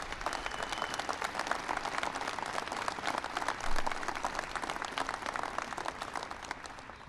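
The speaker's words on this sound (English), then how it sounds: "Give him a big round of applause" A large White House audience applauds for the 2013 World Series champion Boston Red Sox, dense steady clapping that holds at a moderate level throughout with a brief swell midway.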